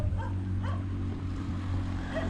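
Dogs on an evening walk in Bali give short yips and whimpering barks, a few scattered calls at moderate distance over a constant low hum.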